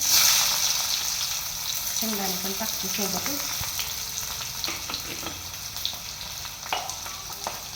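Garlic, coconut and onion frying in a pan, a steady close sizzle with occasional stirring scrapes and crackles throughout, no voices.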